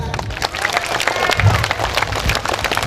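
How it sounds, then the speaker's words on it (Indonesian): An audience at a Bugis-language Islamic sermon claps, brisk, uneven applause mixed with crowd murmur and a few cheers, fairly loud and close throughout. "Tepuk tangan dulu."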